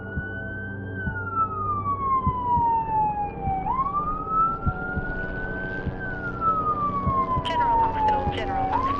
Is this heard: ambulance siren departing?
yes